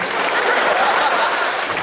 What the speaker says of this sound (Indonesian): Tepuk tangan buat istri saya lagi.